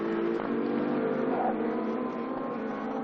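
A Porsche GT2 race car on track during a European series race, a loud sustained engine drone that swells as it accelerates past, close by and steady.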